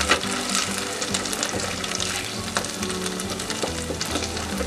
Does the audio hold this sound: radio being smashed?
no